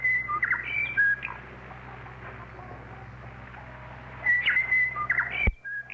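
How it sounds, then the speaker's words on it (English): A New Zealand shortwave radio station sends a bird-call interval signal, a run of bright chirping whistles at the start and again near the end over a low radio hum, then cut off abruptly. "I wonder how many stations start off with birds."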